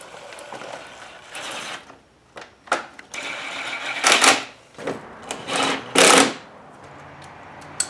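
An impact driver tightens a side panel bolt on a Honda CRF230F dirt bike, with two loud, short rattling bursts among quieter clicks and handling of parts.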